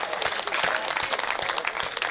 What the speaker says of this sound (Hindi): मैं तालियां चाहता हूं आपसे